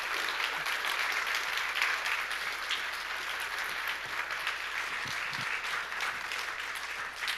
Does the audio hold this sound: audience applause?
yes